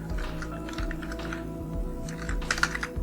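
Steady rapid keystrokes on a computer keyboard, close and clear, clicking in an even run with a few louder taps near the end, no voices.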